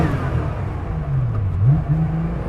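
The engine of an air-cooled Porsche 911 revs up and settles back, a nearby rising and falling drone with no talk over it.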